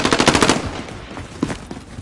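Gunfire in the Call of Duty Modern Warfare video game: a loud, rapid automatic burst, followed by a few separate single shots.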